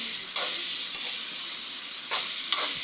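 Vegetables for pork dinuguan cook in a covered pan with a soft, steady sizzling hiss, broken by a few brief louder crackles and clicks.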